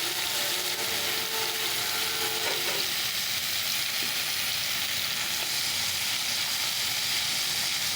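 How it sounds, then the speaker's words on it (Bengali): Bitter gourd (karela) frying with egg in a pan gives a loud, continuous close-up sizzle with a steady hiss and no break throughout. "ডিম করলা ভাজিটা বসিয়ে দিলাম"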